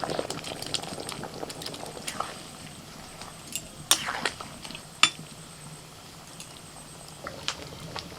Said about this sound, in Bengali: ঝোল ফুটতে শুরু করে দিয়েছে